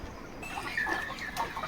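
Village hens cluck and murmur softly together at close range on a poultry farm, a steady low chatter of several birds with no talking.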